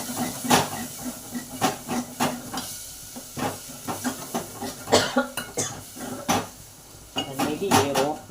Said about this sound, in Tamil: பச்சை வாசனை போகிற வரைக்கும் நல்லா சாட்டே பண்ண